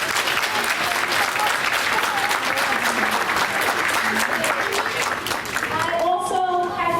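Sustained applause from an audience at a school board meeting, dense clapping filling the room steadily, with a few voices and cheers mixed in.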